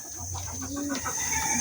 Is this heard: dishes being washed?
no